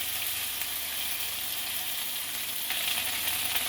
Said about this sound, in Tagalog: Oh, napriprito na siya.